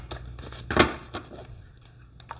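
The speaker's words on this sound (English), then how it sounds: "So we're just going to give these cards a little shuffle." Oracle cards being shuffled by hand, a few soft papery riffles and taps up close in a quiet room, with one brighter flick in the middle and a light snap at the end.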